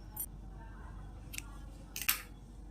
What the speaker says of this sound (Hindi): धागे को अब हम इसी को यहाँ पर काट देंगे